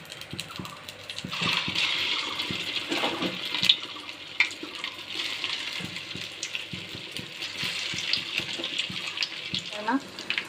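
Egg kabab potato chops sizzling as they are slipped one by one into hot oil, giving a steady bubbling hiss that rises after a couple of seconds, with a voice speaking over it at times.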